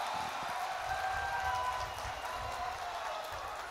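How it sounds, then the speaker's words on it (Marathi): A crowd at a political rally in Amravati, during a Devendra Fadnavis speech, applauds in a continuous, somewhat distant wash of clapping, with a faint whistle-like tone drifting through. "एकदा जोरदार टाळ्या वाजवून आपण स्वागत"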